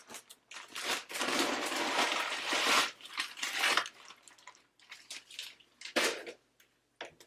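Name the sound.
crushed animal crackers poured into Chex mix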